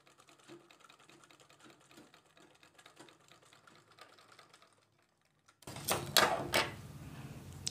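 Domestic sewing machine stitching fabric, a rapid mechanical clatter running steadily for about five seconds before stopping, then a louder burst of handling noise.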